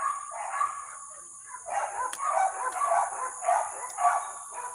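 Several dogs barking out back behind a front-yard vegetable garden, a burst of repeated barks and yips at moderate distance, overlapping in irregular rhythm, with no talk.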